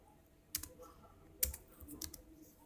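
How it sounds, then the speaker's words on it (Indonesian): Keys clack on a computer keyboard while code is typed, a few sparse, quiet clicks spread irregularly over a soft room hiss. "Selanjutnya kita akan mengetikkan codingannya."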